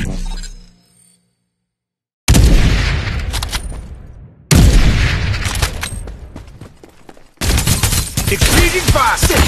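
Heavy artillery and gunfire in PUBG Mobile: loud, dense bursts of explosions and rapid shots break in after a near-silent pause, then cut off and resume in three sustained barrages.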